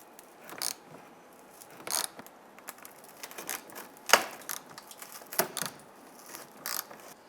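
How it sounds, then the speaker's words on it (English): T30 Torx bolts are loosened and removed from the bumper of a 2002-2008 Dodge Ram 1500, a quiet run of irregular metallic clicks and ratcheting ticks, close but faint, with no voices. "I'm going to go ahead and loosen and remove these here"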